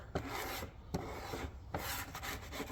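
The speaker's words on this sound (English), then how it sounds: "Now let's see if we can scrape some of this stuff out of here" Gold-bearing sludge scraped out of a rock saw, steady rasping strokes repeating about every half second, close and moderately loud, with no talking.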